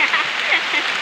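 Steady rain falls in a tribal area of Odisha, a dense, even hiss of drops on surfaces that fills the short stretch without pause.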